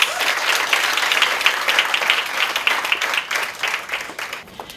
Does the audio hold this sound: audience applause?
yes